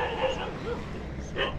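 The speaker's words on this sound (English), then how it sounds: "There's a lot of puppies as well." Puppies in Indonesia give short, high yips and barks close by, mixed with background voices and street noise.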